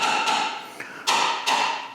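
Ground chicken being broken up for homemade dog food, with a few loud sharp bangs and thuds at irregular intervals, close by, each followed by a short ringing tail.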